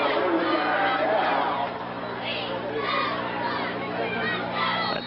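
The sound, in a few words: crowd at high school football game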